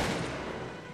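A musket volley fires in the video game Cossacks 2, a dense, loud crackle of gunfire that rolls on for about a second with no pause.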